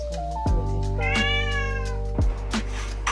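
Domestic cats meow several times, close by and fairly loud, with drawn-out, rising and falling calls and short gaps between them.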